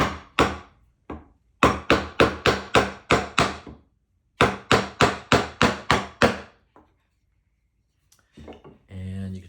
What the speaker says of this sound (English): So I'm gonna take my chisel, holding it at just a slight angle so it's grabbing some wood.